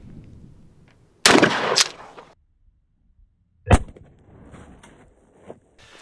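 Remington 870 shotgun firing a Federal Premium Tactical Rifle Slug at a Custom Armor Group level 3 steel armor plate outdoors: one loud close blast with a ringing tail, then a second sharp crack a few seconds later and faint trailing echoes.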